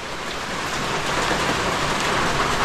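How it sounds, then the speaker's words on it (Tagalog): Heavy rain pours steadily, a dense, even hiss of drops drumming on surfaces nearby, loud and unbroken throughout with no voices over it. "Grabe ulan."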